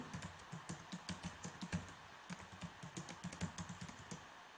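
Steady typing on a computer keyboard while working in Microsoft Word, a quick run of soft, close key clicks in uneven bursts with no talking.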